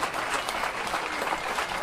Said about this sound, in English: Zander was applauded by strangers at the airport